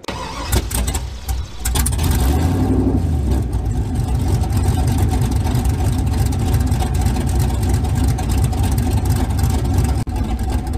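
A GMC Sierra truck with a stage 3 cam and open headers idles close by, a loud, continuous, lumpy rumble with a rough, choppy low-end pulse that holds steady throughout.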